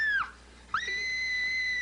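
A young girl lets out high, piercing screams, a short shriek that breaks off, then a second sustained one that holds steady and loud to the end.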